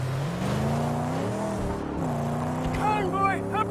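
Cars drive in the Mad Max video game, engines droning and rising in pitch as they accelerate, with someone talking over the rumble.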